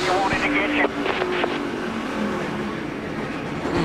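NASCAR stock cars in the 2005 Sharpie 500 roar past on a single-file restart, a loud, continuous engine drone with rising revs under race commentary.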